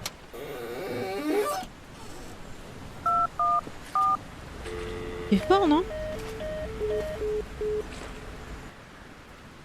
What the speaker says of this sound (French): Le téléphone il marche pas, il y a pas de signal.